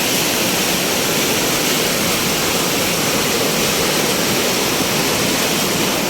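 Powerful, continuous roar of rushing floodwater, loud and steady throughout, like a torrent surging past close by with no pauses, at a place where a road has washed away.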